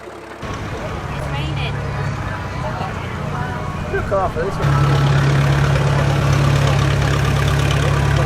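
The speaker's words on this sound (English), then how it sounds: "A Case Model L with roadless traction tracks, built on a collaboration agreement between the two companies." A Case Model L tractor fitted with Roadless Traction tracks runs at a tractor show, its engine idling with a steady low drone beneath someone talking, then a firmer, louder hum in the second half.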